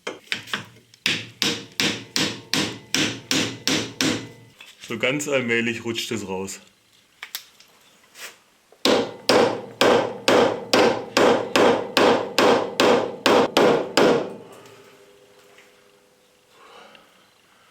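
Sharp metal hammer blows strike in quick, regular bursts, two long runs of hits separated by a brief pause, while someone speaks in between; hammering out a ball joint while replacing control arms on a Porsche 911 SC.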